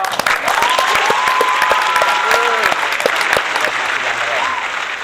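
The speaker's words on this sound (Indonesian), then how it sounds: "Oh, ya tepuk tangan dong." A group at a high school event claps in lively, close applause for about five seconds while voices call out and talk over it.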